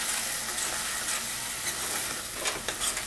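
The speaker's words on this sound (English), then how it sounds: "Now stir this" Spices and coriander powder fry in oil for chole masala, with a continuous nearby sizzle and scattered stirring clicks that grow busier toward the end.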